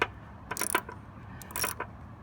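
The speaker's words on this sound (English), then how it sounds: "a couple of good cranks with the ratchet" A hand ratchet tightens the battery hold-down on a Cadillac SRX, producing two short bursts of rapid clicking pawl cranks separated by a brief pause, close and moderately loud, with no talking.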